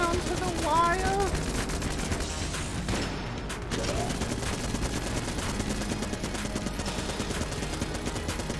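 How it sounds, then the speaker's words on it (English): Rapid gunfire from the twin-stick shooter Enter the Gungeon, a dense chatter of game shots that runs through the whole stretch at steady loudness, with someone talking over it. "My gun shoots faster than your gun."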